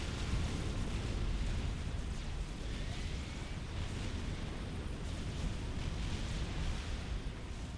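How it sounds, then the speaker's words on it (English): A nuclear strike detonates in the real-time strategy game Supreme Commander: Forged Alliance, a sustained, dense, rumbling roar that stays loud and steady for several seconds with no clear individual blasts. "I think the explosion radius is big enough on this to kill both gates at once"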